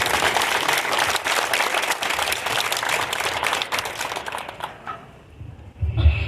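Audience at a history lecture in Zacatecas applauding, dense clapping close and sustained for several seconds before thinning out and stopping, with a brief thump at the end.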